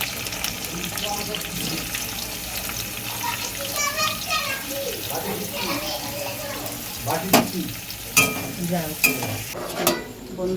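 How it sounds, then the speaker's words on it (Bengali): Sliced onions frying in hot oil for beresta during biryani preparation, a steady sizzle with stirring clatter and occasional spoon knocks, heard alone at moderate loudness. "আর এদিকে আমি বেরেস্তাটা ভেজে নিই"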